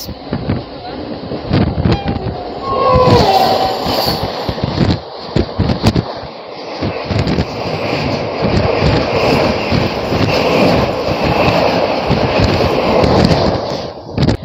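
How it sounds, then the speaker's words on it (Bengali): The Coromandel Superfast Express, train 12842, arrives as a loud, continuous broadband rumble mixed with heavy wind buffeting, with a brief tonal sound near the start and the roar holding steady to the end. "চলো আসছে করমণ্ডল সুপারফাস্ট এক্সপ্রেস"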